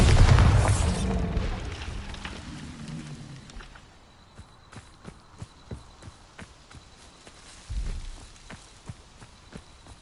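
Confringo and Bombarda spell explosions in the Hogwarts Legacy video game: a loud boom at the start decays into rumble, and a second, smaller blast follows later, with sparse footsteps between.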